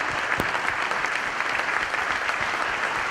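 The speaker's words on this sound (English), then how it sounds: "can we give them a round of applause just for their thoughts, their ideas" An audience gives a round of applause, a steady wash of many hands clapping evenly throughout, fairly distant and without voices.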